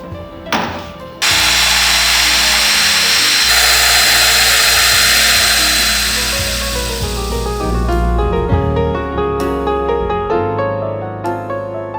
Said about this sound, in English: Domino is a Festool German company, and they make machines that cut perfect mortises